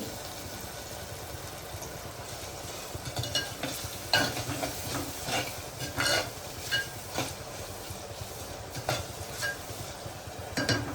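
Onions with ginger-garlic paste sautéing in a clay pot, with a continuous low sizzle and repeated scraping stir strokes that come in irregular bursts up close.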